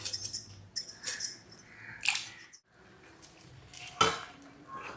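Knife work on a board while radish and carrot are cut for sambar in a home kitchen: irregular clacks, scrapes and clinks of utensils, close and moderately loud, with a brief quiet gap midway.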